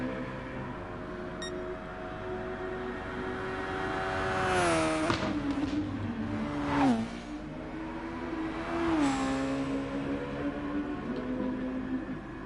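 Engines of race cars whine and shift in a racing video game as cars leave the pits, rising and falling pitch sweeps with a few close passes over a steady engine drone, loud and continuous with no talk.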